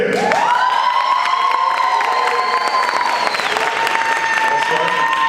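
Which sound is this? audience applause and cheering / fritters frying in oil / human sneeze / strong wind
audience applause and cheering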